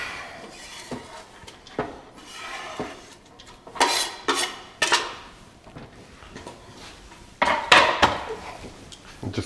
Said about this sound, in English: just give it a quick stir as well